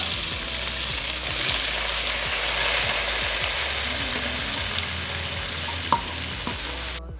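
Minced meat and onion fry together with browned bitter gourd peels in a pan, giving a steady, close, dense sizzle with occasional stirring clinks and scrapes, and no voices.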